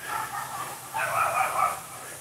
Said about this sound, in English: And the dog starts barking.